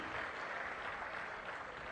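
An audience at a public meeting on rural local bodies and panchayat raj gives sustained applause, a faint, even wash of many hands clapping heard from a distance.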